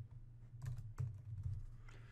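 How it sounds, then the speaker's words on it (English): Several quiet keystrokes tap on a computer keyboard in a short irregular burst, close but faint, in an otherwise hushed room. "I'm going to hit return to get to the second line and type in anywhere USA."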